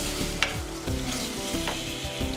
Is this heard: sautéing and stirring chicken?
yes